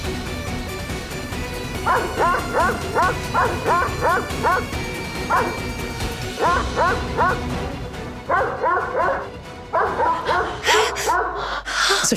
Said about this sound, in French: Ce chien est énervant.